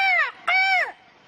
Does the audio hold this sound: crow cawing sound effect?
yes